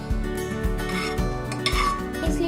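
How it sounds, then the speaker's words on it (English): A metal pan is handled on a stovetop with butter while macaroni pasta is being cooked, giving a close series of four or five rhythmic clanks and scrapes of metal on metal. "So now I am going to heat another pan."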